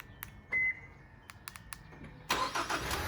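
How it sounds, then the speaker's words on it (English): A 2016 Lincoln MKC is started by remote: a few faint clicks and a beep, then the engine catches and settles into a steady running sound nearby. "Remote start, you guys."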